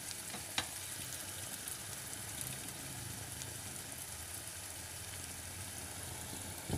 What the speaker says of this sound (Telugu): ఉల్లిపాయలు కొంచెం వేగాలి